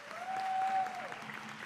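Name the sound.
audience applause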